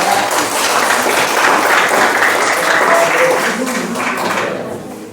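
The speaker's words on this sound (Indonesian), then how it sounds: "Oke, tepuk tangan dulu." Sustained audience applause at a school teachers' coaching and academic supervision session, a dense, steady wash of many hands clapping at full strength for about four seconds before easing slightly at the end.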